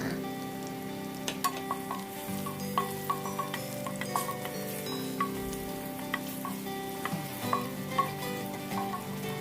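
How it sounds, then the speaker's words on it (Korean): Garlic sautéing in oil over medium heat for an abalone pasta, a soft continuous sizzle dotted with small pops and light clinks of a utensil against the pan, quiet and close with no voices. "약간 갈색 정도 나는 그런 빛깔로 마늘을 볶아줍니다"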